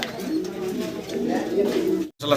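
German blue bar pigeons coo softly and continuously nearby in low, rolling murmurs, with a brief silent gap near the end.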